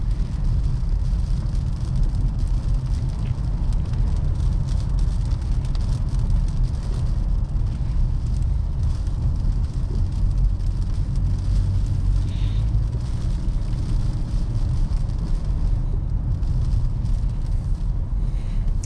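Rain and road noise inside a 2022 Toyota Camry SE as it drives, a dense, steady wash of hiss and low rumble throughout with no clear gaps.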